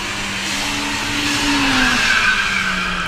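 VW Golf and Polo TDI launching side by side at a drag strip, engines revving hard with rising and falling tonal whines and tyre squeal, loud and close over about three seconds.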